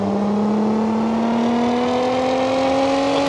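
The engine of The Behemoth, a homemade four-axle vehicle built on a LeGran car in BeamNG, drones steadily and loudly, its pitch rising slowly as it climbs, with no talking.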